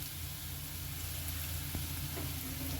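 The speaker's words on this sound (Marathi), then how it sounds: "कांदा आणि लसूण अद्रकची पेस्ट ही आपण छान परतून घेतलेला आहे." Onion, garlic and ginger paste frying with spices in a pan, a soft continuous sizzle and hiss with a faint clink partway through.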